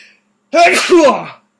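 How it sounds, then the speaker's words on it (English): A single loud sneeze bursts out close by, with a sharp intake and explosive release lasting under a second, then silence. "excuse me, I'm going to sneeze"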